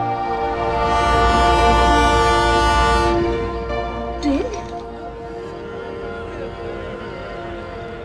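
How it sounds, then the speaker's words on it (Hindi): An approaching train in a horror drama scene, a loud steady rumble and hum with a long sustained horn blast, then a lower drone as the train keeps coming. "ये ट्रेन पास आ रही है"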